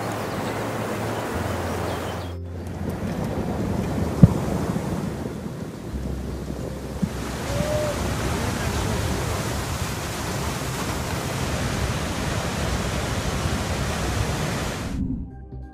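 A Yosemite waterfall rushes in a steady, broad roar of falling water during freezing weather, loud and close, with brief shifts in tone but no voices.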